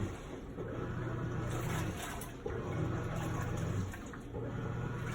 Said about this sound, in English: You can just listen to it right now.